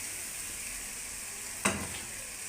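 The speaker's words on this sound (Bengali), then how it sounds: "মশলাটাকে আমি ভালো করে কষিয়ে নেব 10 মিনিট" Spice paste of garlic, chili, turmeric, coriander and cumin sizzles steadily in a pan for a pangas fish curry, with one sharp utensil knock against the pan partway through, close and continuous.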